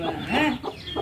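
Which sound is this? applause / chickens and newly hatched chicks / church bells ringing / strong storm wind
chickens and newly hatched chicks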